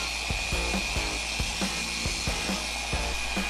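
A paint polishing machine works a coarse-compound pad over a car panel, giving a steady high motor whine with rhythmic knocking thumps about every half second, close and continuous.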